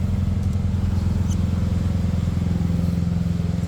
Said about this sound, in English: once we gave it a boost, the engine fired right up